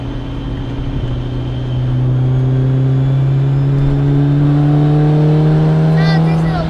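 Honda S2000 CR engine pulling under throttle in fifth gear, a steady loud drone with rising harmonics as revs climb, while people talk in the cabin.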